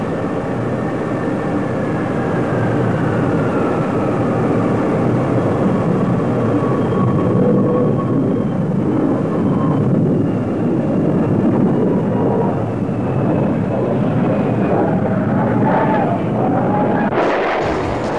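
Boeing B-52 bomber jet engines produce a loud, steady, broadband roar that runs unbroken throughout, with no voices over it.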